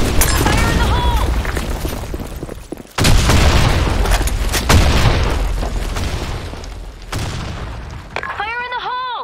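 Heavy booms of grenade explosions mix with rapid bursts of gunfire and debris in a video game, loud and sustained, while shouted voices are heard over the battle.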